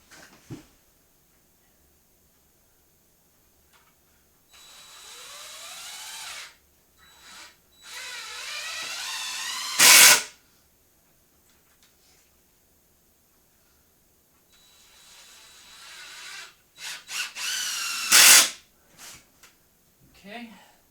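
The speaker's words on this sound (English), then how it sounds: "Alright, let's run 2 screws into that." Power drill driving two screws into a fabricated seat frame for a Cessna 172F cockpit rebuild, with two short, loud whining bursts separated by quieter handling noises and brief talk.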